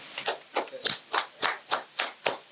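A group claps in an uneven rhythm, about ten sharp claps spread over a couple of seconds. The sound is close and fairly loud, and there is light background chatter.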